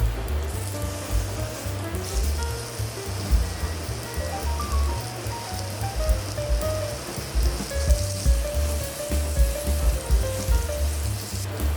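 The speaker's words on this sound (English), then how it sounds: "use a cast iron skillet today. Set to medium-high heat and add about 1½ tablespoons of olive oil, and then place our meat." Filet mignon sears in olive oil in a cast iron skillet over medium-high heat, giving a steady, dense crackling sizzle throughout with light music playing underneath and no talking.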